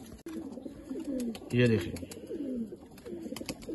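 Old-breed Jaunsari pigeons coo in soft, rolling repeated phrases close by, with one fuller coo swelling in the middle, while someone talks over them.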